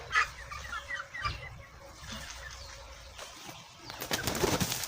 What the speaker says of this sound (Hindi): ये उड़ती हैं ये बतखें